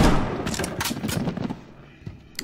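Gunshots in the shooter You Are Empty, several sharp cracks spread over a couple of seconds over a dense, rumbling game soundscape, loud and close at first, then thinning out.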